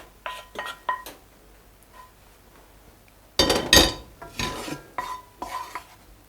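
Sautéed seafood of baby cuttlefish, octopus and shrimp being emptied from a pan into a clay casserole dish: scattered metallic clinks and scrapes, with a louder, denser burst of clattering and sliding midway, then lighter taps.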